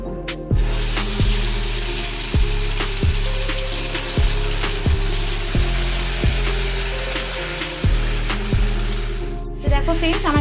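Spice paste frying in hot mustard oil with cumin in a wok, a loud steady sizzle with sharp spattering pops recurring throughout, close by and alone.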